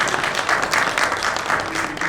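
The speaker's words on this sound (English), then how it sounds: "Round of applause for this." An audience at a business summit session in Mumbai applauds, a dense, steady patter of many hands clapping throughout.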